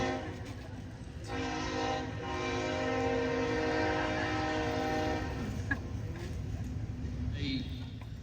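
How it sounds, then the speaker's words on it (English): A train rumbles past with a steady, loud drone and long sustained horn-like tones, its noise swelling and holding for several seconds. "let's wait on this train."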